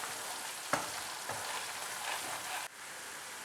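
Tomato chutney sizzles steadily in a hot pan, a constant close frying hiss with a couple of faint stirring clicks and a brief dip near the end.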